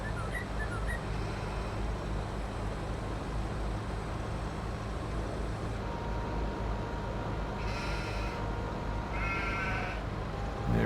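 Sheep bleating in a Farming Simulator 22 farm setting, a few calls rising over a constant low engine drone from farm machinery, with brief mechanical chirps toward the end.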